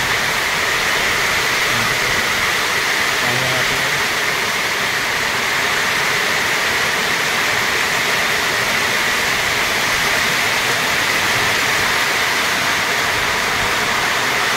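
Water pours steadily into a makeshift covered shelter during rain, a constant broadband rush lasting throughout, loud and close, with a brief spoken word over it.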